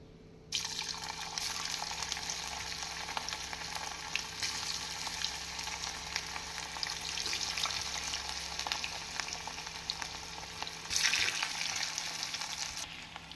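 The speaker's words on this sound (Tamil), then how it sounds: "காலிஃப்ளவரை இதில் பொரித்து எடுக்க வேண்டும்" Steady, dense sizzling and crackling of cauliflower deep frying in hot oil, continuous and close, with no voices.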